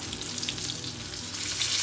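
A crispy chicken burger patty frying in a pan over medium-low heat gives a steady, dense crackling sizzle, close and even, swelling a little toward the end, with no voices.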